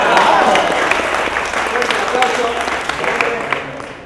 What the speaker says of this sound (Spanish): Luisina, fuerte el aplauso para Luisina.